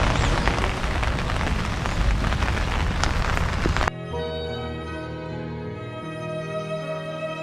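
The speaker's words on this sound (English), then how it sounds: "In the rain here under umbrella." Rain patters densely on an umbrella held overhead outdoors at Hiroshima Castle, a loud close hiss that cuts off abruptly halfway through, giving way to a quieter tonal background.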